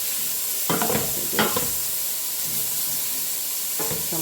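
Bacon frying in a pan with a constant close hiss and crackle, broken by three distinct scraping stirs that briefly swell the sizzle; steady and loud, nobody speaking.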